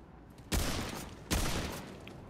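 Two loud, sharp gunshot blasts fired at an object in the video game Remnant II, each followed by a lingering reverberant tail.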